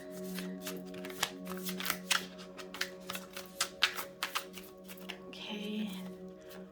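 A deck of oracle cards shuffled close by in quick repeated riffles and flicks, soft snappy card slaps in an irregular rhythm over a low steady hum, with a brief rustle near the end.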